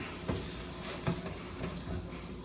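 Ingredients sizzle and toast in hot fat with a steady, faint crackling hiss and a few soft bursts of spatter over a short stretch.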